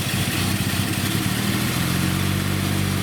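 A Datsun 280Z engine idling roughly, a loud, steady, close mechanical rumble with an uneven clattering pulse throughout.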